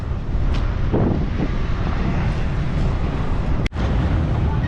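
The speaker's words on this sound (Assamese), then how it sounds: "ধুনীয়া বতাহ মাৰি আছে জাষ্ট" Wind blows steadily across the microphone on a bridge with a constant low rumble and buffeting, broken by a single sharp click near the end.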